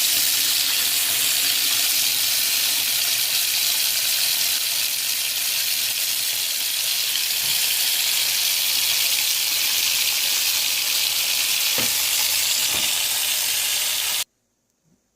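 Dishes being washed in a sink load of water, a steady broadband wash of running and splashing water with a few brief clinks near the end before it cuts off abruptly.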